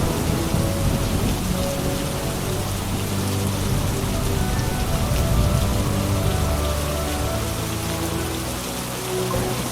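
Heavy rain pours down steadily with rumbling thunder mixed in, a dense, loud, unbroken wash of sound with no voices.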